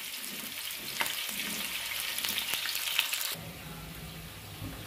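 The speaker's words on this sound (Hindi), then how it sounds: "ये ब्राउन हो रहा है जी प्याज हमारा" About a kilo of onions frying toward golden brown in a big village cooking pot, a busy crackling sizzle with stirring scrapes, then softening to a quieter steady hiss near the end, no speech.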